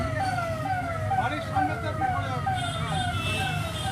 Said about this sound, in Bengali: ওখানে অ্যাম্বুলেন্স আসছে